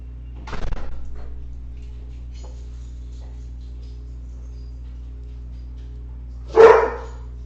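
Dogs bark indoors in two short, sharp bursts about six seconds apart, with a steady low hum filling the quiet gap between them.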